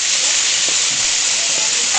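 Prawns go into hot oil in a home kitchen and hiss steadily, a loud, continuous bright sizzle that fills the whole two seconds with no talking.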